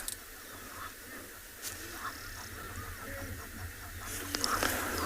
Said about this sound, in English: The Egyptian geese are super noisy.